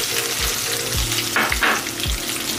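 Ginger and garlic sizzle and crackle in hot oil in a pan for pepper chicken, a loud, steady frying hiss with a few stirring scrapes and soft knocks repeating at a roughly even pace.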